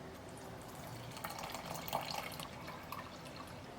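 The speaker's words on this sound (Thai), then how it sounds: "ผมจะใส่เกลือนิดหน่อยครับใส่น้ำเปล่าครับ" Plain water runs steadily into boiled soybeans for Korean cold soybean noodle soup, a continuous close trickling pour with faint splashes, no talking.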